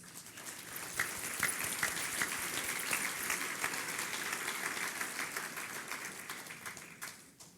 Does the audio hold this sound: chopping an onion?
no